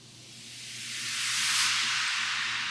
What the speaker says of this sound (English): And so I layered just some effect sweeps.